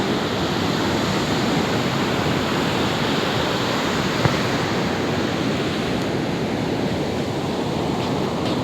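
Sea waves wash onto a debris-strewn shore in a steady, unbroken roar of surf that holds an even loudness throughout, with no voices.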